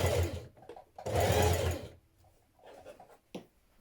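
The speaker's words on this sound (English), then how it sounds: "you want to sew this opening closed" A domestic sewing machine stitches a backpack's bottom opening closed in two short bursts of steady whirring, close and clear, with quiet handling sounds between them.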